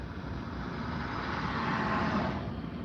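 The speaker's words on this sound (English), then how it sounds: "I'm just waiting on this car to come." A car on a road approaches in a steady, broad rumble that swells slightly toward the middle, heard from inside a vehicle at moderate distance with no talking.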